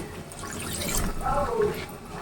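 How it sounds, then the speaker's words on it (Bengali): Water pours steadily into a cooking pot holding duck meat and potatoes, a soft continuous splashing and gurgling at close range for about two seconds. "রান্নার জন্য পানি দিয়ে দিচ্ছি"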